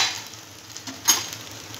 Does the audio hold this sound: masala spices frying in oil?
yes